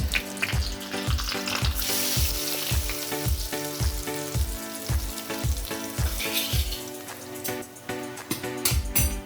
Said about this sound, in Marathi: आता आपण या भाजीला तडका देऊया लसूणचा